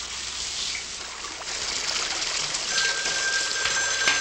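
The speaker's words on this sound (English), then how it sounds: "Move back, you're splashing." Water splashes and trickles in a steady broadband wash that grows slightly louder toward the end, with no one speaking over it.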